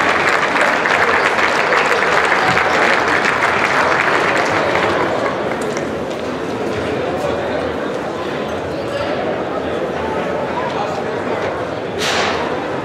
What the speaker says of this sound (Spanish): Un aplauso, por favor, para nuestro juez.